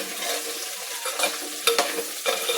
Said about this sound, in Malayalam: വെണ്ടയ്ക്ക ഒന്ന് വഴന്ന് വരട്ടെ.